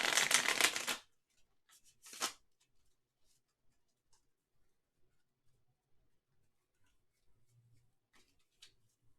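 A short burst of stiff tarot cards being shuffled up close, then a second brief riffle, followed by quiet handling sounds and a faint cooing bird in the background.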